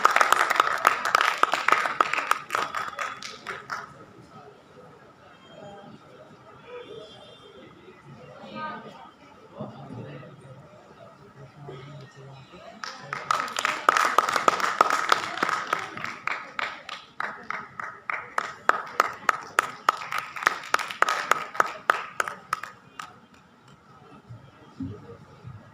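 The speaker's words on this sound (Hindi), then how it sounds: "तालियों से सर का स्वागत करें।" Audience at a Kashmiri youth exchange event breaks into applause welcoming a guest, a strong burst of clapping at the start, then a longer wave of hearty clapping mid-clip, with chatter and talk in between.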